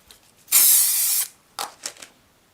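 Spray glue hisses out of an aerosol can in one steady burst of about three-quarters of a second during assembly of a replica Spitfire blind flying instrument panel, followed by a few quieter handling clicks.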